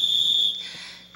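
A loud, high, steady whistle blast summons people in a Brazilian Portuguese stage recording of The Sound of Music, held for about half a second and then fading, with no talk.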